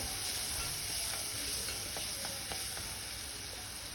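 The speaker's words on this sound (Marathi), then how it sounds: "ही पेस्ट आपल्याला तेलावर छान अशी परतवून घ्यायची आहे" Ginger, garlic, chili and coriander paste fries in hot oil with a steady close sizzle, broken by a few light clicks and scrapes of stirring.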